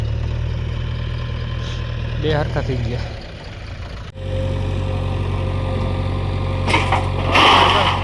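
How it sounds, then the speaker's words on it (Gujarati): A tractor engine idles with a steady low diesel throb while it is loaded with manure on a farm, close and continuous under people talking, with brief scraping and knocks from the loading. "તો અત્યારે ટ્રેક્ટર ભરવાનું ચાલુ છે ખાતરનું"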